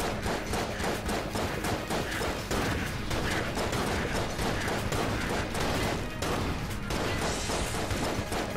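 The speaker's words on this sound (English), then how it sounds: "we're doing pretty good damage with the pistol" Rapid pistol fire in the video game Enter the Gungeon, a dense, continuous stream of mechanical shots and impacts, loud and unbroken throughout.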